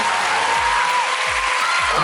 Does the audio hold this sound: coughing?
no